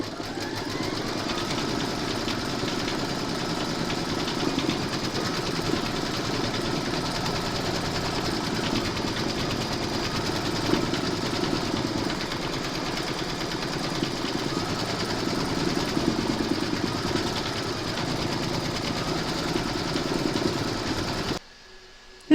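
Embroidery machine stitching a spider web in silver thread, a steady close mechanical whirr and rapid needle chatter running continuously for about twenty seconds before stopping abruptly.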